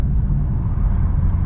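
A BMW M5 engine heard from inside the cabin with the windows down, a loud, continuous low rumble mixed with road and wind roar.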